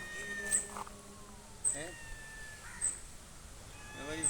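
Several cats meow and yowl over a background of crow calls, with repeated short cries rising in pitch spaced through the clip, fairly close, while a person speaks at times.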